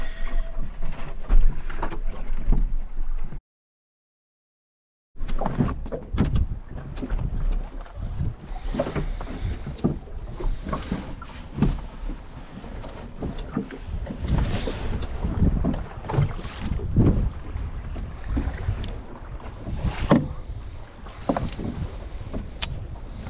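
A small boat rides choppy waves out at sea. Wind buffets the microphone with gusty rumble alongside hull slaps and water splashes, broken by a brief silent gap early on.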